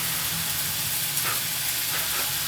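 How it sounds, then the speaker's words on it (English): Lamb's hearts frying in a pan give a steady, soft sizzle and hiss that runs through the whole stretch, heard from a little distance with faint kitchen movement and no talking. "Now you should be able to hear the sizzling of the lamb's hearts in the back."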